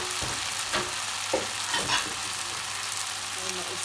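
Onions frying in a pan with a little salt for chicken fajitas, a steady close sizzle with a few brief stirring scrapes and clicks, no talk.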